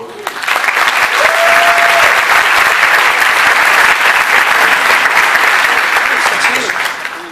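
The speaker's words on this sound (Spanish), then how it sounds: "Un aplauso, por favor." An audience at a drum masterclass breaks into sustained applause, a dense wash of clapping that swells quickly, holds loud and close for several seconds, then tapers off.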